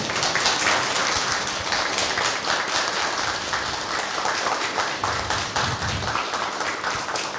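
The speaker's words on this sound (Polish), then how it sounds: "Brawa." Steady, dense applause fills a town council session in Myszyniec, Poland, a room of people clapping continuously at an even level with no talk over it.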